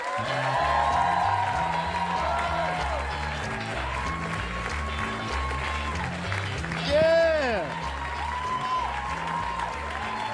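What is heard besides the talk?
audience applause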